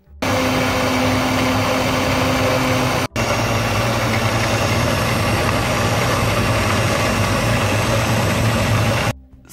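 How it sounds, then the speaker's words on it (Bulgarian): An electric hand mixer beats cookie batter with a loud, steady motor whir that stops briefly once, then resumes before cutting off. "след което да продължим да разбиваме с помощта на миксера"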